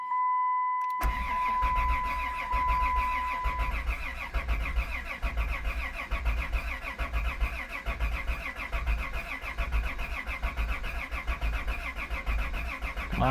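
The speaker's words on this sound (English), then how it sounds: "let's see if this thing will crank over." A Chrysler Town & Country minivan engine, at 326,000 miles after a water pump and timing chain service, cranks and turns over, a steady loud mechanical churning that runs continuously after a brief tone at the start.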